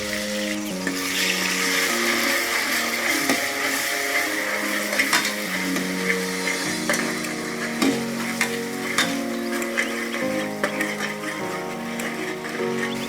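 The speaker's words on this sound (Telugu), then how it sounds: "ఇప్పుడు ఫ్రెష్గా చేసుకున్న ఆనియన్ అల్లం వెల్లుల్లి పేస్ట్ని వేసుకుందాం." Fresh onion, ginger and garlic paste frying in oil for mutton paya curry, a loud continuous sizzle with stirring scrapes, under a melodic musical backing track.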